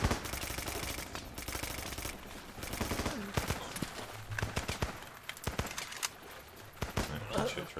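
Dense gunfire in the Running with Rifles game, rapid automatic bursts and single sharp shots crackling close and loud in uneven clusters, with a voice speaking now and then.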